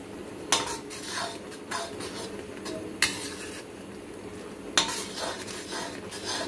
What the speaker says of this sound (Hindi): और चल तभी भी चलाते रहेंगे क्योंकि कढ़ाई मेरी गर्म है